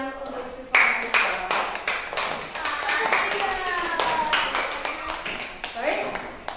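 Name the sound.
clapping for a student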